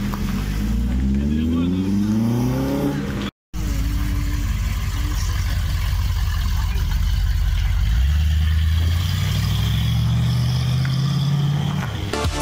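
A Peugeot 308 GTI engine revs loudly and continuously, its pitch climbing and dropping through repeated gear changes. The sound cuts out completely for a moment, then returns with a long, rising pull.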